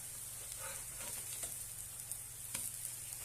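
Moong dal and bottle gourd patties roast crisp in a pan with a soft, even sizzle and a few faint ticks of a utensil, quiet and close, with no voices.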